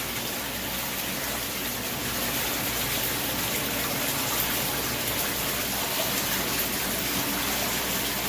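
Water runs steadily through a bathtub's jet lines with a dissolving Cascade dishwasher pod, a continuous even rush and gurgle heard up close with no talking.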